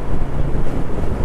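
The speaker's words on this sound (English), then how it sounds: "the weather is not too good, and it's already quite windy" Strong wind buffets a microphone outdoors in rainy, windy Scottish weather on a road trip near Falkirk and Loch Lubnaig, a continuous close rumbling roar.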